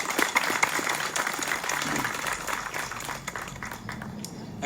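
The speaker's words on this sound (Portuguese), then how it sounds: "Uma salva de palmas" A church congregation at a Eucharist celebration gives a round of applause, moderately loud, steady clapping that gradually thins out over a few seconds in a reverberant space.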